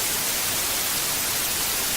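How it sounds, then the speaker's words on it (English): Steady, full-band hiss of white noise static, harsh and unchanging at constant loudness throughout, with no voices. "Wait, isn't that called white noise?"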